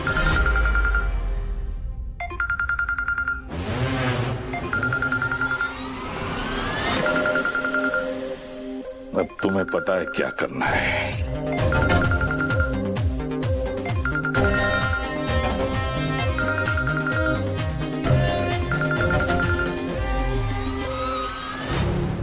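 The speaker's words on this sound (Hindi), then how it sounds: "फोन क्यों नहीं उठा रहा?" A phone ringing unanswered, with repeated electronic ring bursts in a steady rhythm over a loud dramatic music bed, and a brief line of speech near the start.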